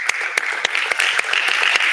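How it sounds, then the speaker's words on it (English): Audience applause at the close of an academic panel session; a short burst of clapping with distinct individual claps standing out against a steady wash of hands, fairly close and lasting under two seconds. "So thank you very much. A big applause."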